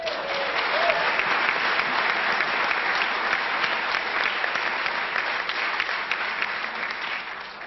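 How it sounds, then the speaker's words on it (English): An audience at a Republican Jewish Coalition Q&A breaks into loud, dense, sustained applause that holds steady from start to finish, filling the room. "I'm told to stop when they applaud."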